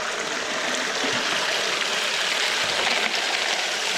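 A gold-bearing creek flows steadily, a dense continuous rush of running water that fills the scene at close range with no pauses.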